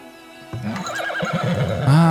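A horse whinnies in the settlement-building game Farthest Frontier, a clear, close neigh with a rising and falling pitch after a short quiet start, ending on a brief snort.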